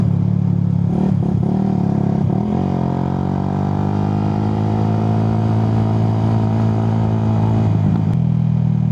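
A motorcycle engine on a solo ride along a quiet road near Tagaytay, a loud steady drone heard from the rider's position, with a brief rise in revs partway through and no other traffic.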